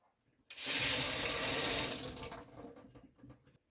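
Water gushes loudly from a Xiaomi Xiaoda instant water heater tap as it is turned on, a steady close rush of flow that lasts over a second before tapering into softer splashes and drips, with no talking.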